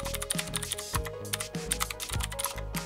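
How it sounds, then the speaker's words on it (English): Rapid typing on a mechanical keyboard with clicky switches, crisp close-up keystrokes in an uneven quick rhythm, each press a sharp click, quiet and alone. "Different mechanical switches affect the feel and sound of our keystrokes, from the crispness of clicky switches"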